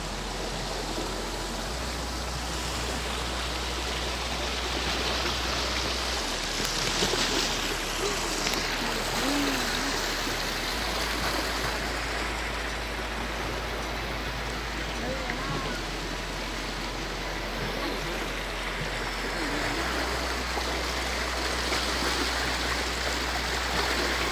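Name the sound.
Kumaradhara river water flowing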